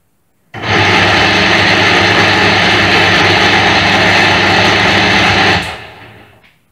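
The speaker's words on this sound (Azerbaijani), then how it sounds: "Elektrik mühərrikini işə salacağam, reduktorun işləməsinə baxacaqsınız." An electric motor driving a gear reducer starts abruptly, runs with a loud, steady roar and whine for about five seconds, then shuts off and winds down.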